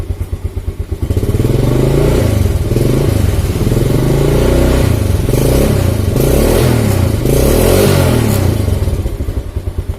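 A nearby engine, probably a motorcycle, is loud and close from start to finish, with throttle opened steadily so the low rumble rises and holds in a rough, pulsing drone with no talk.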